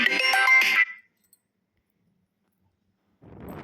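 An incoming call sets off a phone ringtone, bright and fairly loud for under a second, then cuts to near silence before a low rumble rises at the end.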